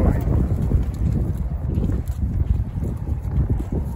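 Slow clip-clop of a relaxed horse walking with a young girl riding, soft hoof steps under gusty wind buffeting the microphone, with a voice talking over them.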